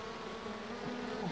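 Bees from a swarm being captured without protective clothing make a continuous, close buzzing hum. The drone is steady and strong and swells slightly near the end.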